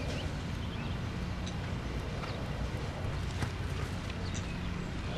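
Hooves of Teddy, a horse ridden by Karen O'Connor in a dressage test at the 2007 Rolex Kentucky event, make soft, faint thuds under a steady wash of outdoor arena noise.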